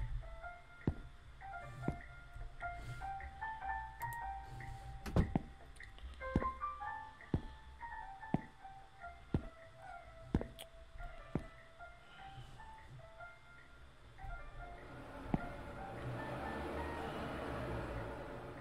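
A truck arriving at a convenience store in a horror video game, playing a looping chime melody with sharp clicks throughout, followed by a rising engine-like rumble near the end.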